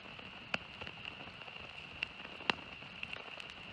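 Rain falls at a campfire in Siuslaw National Forest, a steady soft patter with sharp drips and pops on nearby surfaces, scattered crackles standing out over the hiss.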